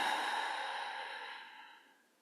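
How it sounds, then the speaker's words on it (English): A slow, audible exhale through the mouth during a guided breathing exercise, one long airy breath close to the listener that starts fairly loud and fades steadily to silence. "I inhale light and I exhale"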